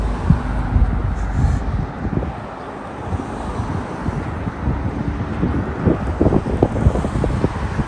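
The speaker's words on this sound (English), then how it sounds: "It's a little bit windy today." Wind gusts across a microphone on a city street corner in Paterson, New Jersey, giving a loud, rumbling buffet that rises and falls unevenly, with faint traffic-like noise underneath.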